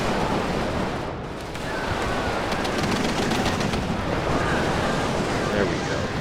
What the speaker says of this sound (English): And already firing again with the big guns.